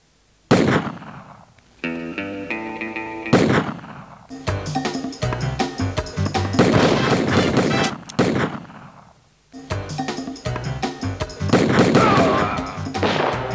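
Gunfire in the 3DO video game The Last Bounty Hunter: repeated sharp, loud shots in dense bursts, separated by brief pauses and a short musical or chime-like passage, with no talk.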